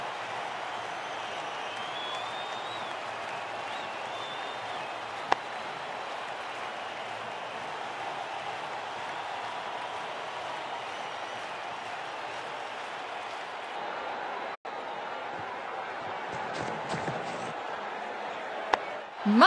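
Cricket video game stadium crowd in WCC3 roaring steadily after a six, a constant broad wash of cheering that holds at even loudness for a long stretch, with a few sharp clicks near the end.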